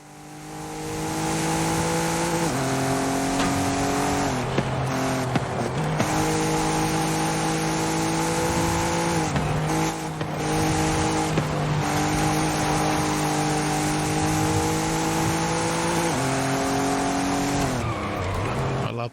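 Race cars in a racing video game, including an Infiniti Q60 and a BMW, with loud continuous engine drone rising and dropping through gear shifts and occasional tire squeal over a long stretch.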